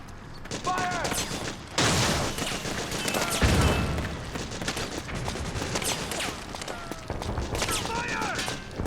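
Suppressing gunfire in Metal Gear Solid 4, with dense bursts of rapid shots and a heavier boom rolling on continuously, mixed with shouting voices and battle noise throughout.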